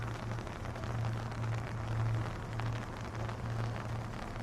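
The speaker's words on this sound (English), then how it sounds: "Listen to that rain." Rain falling outdoors after dark during a downtown food tour, a steady, fairly faint hiss of drops with a low hum underneath and no talking.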